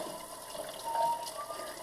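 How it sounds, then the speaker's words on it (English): Water streams steadily from a tap, a soft continuous rushing that swells slightly midway, close and moderately quiet. "let me turn my water on"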